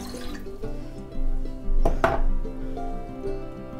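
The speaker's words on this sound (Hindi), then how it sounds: "आधा ग्लास पानी डालेंगे," Half a glass of water poured into a pan while making jaggery rice, a short splashing pour in the middle with light kitchen clatter around it and a steady low hum beneath.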